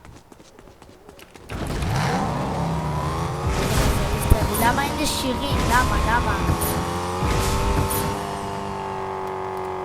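Car engine starting up and revving in a battle royale video game, a loud rising and falling motor growl with shifting pitch, under someone talking.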